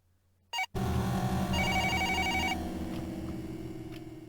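Telephone ringing in the horror video game Twilight Syndrome, a brief click then a loud electronic ring that repeats in a steady pulsing pattern and slowly fades, no voices.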